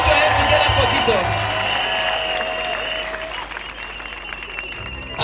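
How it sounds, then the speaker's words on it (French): A crowd at an outdoor church crusade in Mbouda claps steadily, dense applause that fades gradually while someone speaks over it. "Put your hands together for Jesus."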